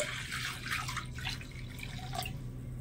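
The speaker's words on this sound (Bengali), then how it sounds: "বাটির মধ্যে কিছুটা মতো নিয়ে নিচ্ছি জল।" Water is poured into a bowl while salt water is prepared for making a raw mango pickle, giving soft trickling and dripping sounds, close but faint, under a steady low hum with no voices.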